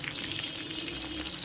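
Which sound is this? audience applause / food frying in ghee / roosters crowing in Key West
food frying in ghee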